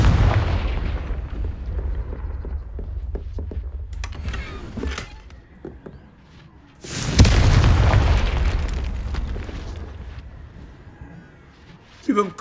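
Confringo blasting spell explosions in the Hogwarts Legacy video game, a loud booming burst at the start and another big rumbling blast midway that slowly fades, with scattered clicks and a voice in between.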